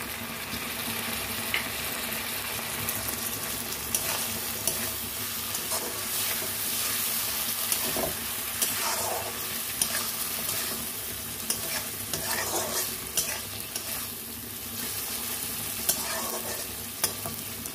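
Paneer simmering in a pan with a small bowl of milk added instead of water, a steady soft sizzle and bubbling with occasional stirring scrapes throughout, no voices.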